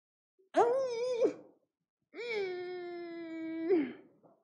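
A cat passing by cries twice in a quiet room, a short moaning meow followed by a longer drawn-out wail, close and alone with no talk.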